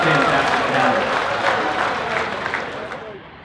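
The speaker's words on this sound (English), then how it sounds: "let's give them a round of applause" An audience applauding at a Pro Mod drag racing event, a dense burst of clapping that is loud at first and then gradually tapers off near the end.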